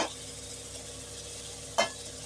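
Tomatoes tossed into a pan of sizzling masala for chicken biryani, a steady frying hiss with one sharp stir or scrape near the end.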